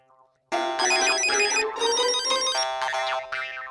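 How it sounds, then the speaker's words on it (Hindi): A mobile phone rings with a bright, melodic electronic ringtone that starts abruptly and plays on at a steady loudness through a domestic scene from a comedy show. "टप्पू का फोन तो उठा।"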